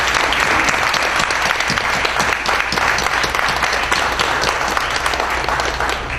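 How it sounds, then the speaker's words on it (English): Loud, steady applause fills a sixth-grade moving-up ceremony, with a dense crowd clapping continuously and no letup over several seconds. "Let's give them a round of applause."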